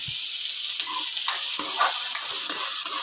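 Chopped green chillies and vegetables for homemade upma are stirred in a hot pan, producing a loud, steady close-up sizzle with repeated spoon scrapes and knocks against the metal, with no speech.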